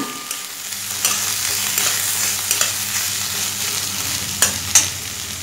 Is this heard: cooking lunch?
yes